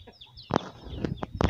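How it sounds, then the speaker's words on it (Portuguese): A hen squawks in a farmyard with a tegu lizard nearby, giving several sharp, loud bursts of alarmed clucking with scattered rustling between them. "Vi só a galinha gritando."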